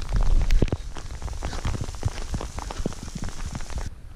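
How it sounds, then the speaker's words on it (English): Hail falls on a mountain pass near Flagstaff, Arizona, a dense, loud, continuous patter of pellets striking surfaces close by, easing slightly toward the end. "Getting hailed on."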